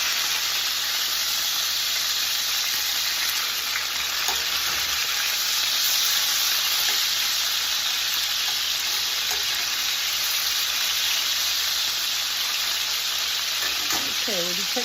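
Chicken pieces sear in a hot frying pan with a steady, loud sizzle and hiss that runs unbroken the whole time, with faint scraping stirs now and then.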